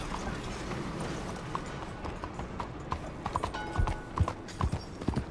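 Hoofbeats of a horse galloping in the video game Red Dead Redemption 2, a rapid, uneven run of clopping thuds over a busy background, growing more prominent toward the end.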